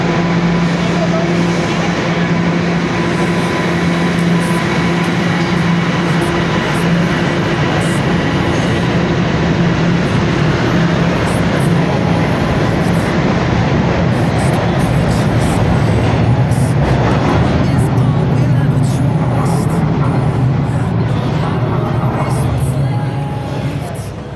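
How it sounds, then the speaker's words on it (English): A Toronto subway train rolls along its rails with a steady, loud low rumble and continuous wheel and track noise throughout, with faint rattles and clatter from the car. "Subway time."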